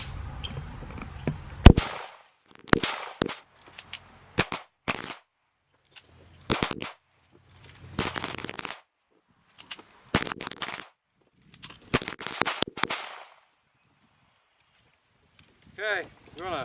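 A Tisas BR9 pistol fires during an endurance test, sharp loud shots in quick bursts and single cracks separated by silent gaps, with a voice speaking briefly near the end.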